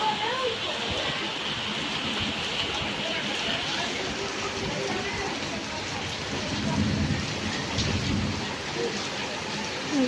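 Rain falls steadily outdoors as a storm starts, a dense continuous hiss of drops on surfaces with faint distant rumbles and a voice talking underneath.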